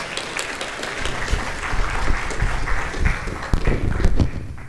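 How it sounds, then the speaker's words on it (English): An interfaith Ramadan gathering at a mosque in Maryland greets a guest with steady audience clapping that holds at moderate loudness throughout, a few sharper claps standing out near the end. "Let's welcome her with a round of applause."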